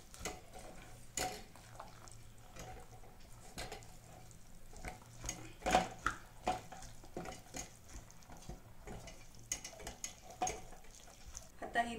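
A spoon stirs corn and a spoonful of sugar together in a cooking pan, making irregular scraping and tapping clicks with faint sizzling underneath, close and moderately quiet.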